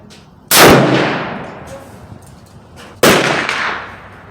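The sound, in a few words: gunshot from Browning BLR .358 Win or Henry 45-70 rifle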